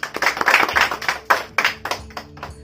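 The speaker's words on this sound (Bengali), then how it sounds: "সবাই হাততালি দাও" A small group claps hands in celebration in a short, close burst of quick, uneven claps that stops after a few seconds.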